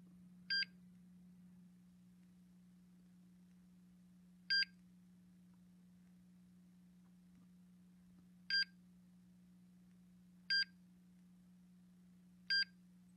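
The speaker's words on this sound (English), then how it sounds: "it's done testing alarms" An MSA Altair 4X gas detector runs its alarm test: short electronic beeps at regular intervals, five in all, each a quick high chirp over a low steady hum in a quiet room.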